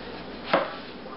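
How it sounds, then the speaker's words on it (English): A kitchen knife cuts a tomato into slices for a panini, making one short, soft, close chop against a steady low background hush. "Just going to cut it into slices."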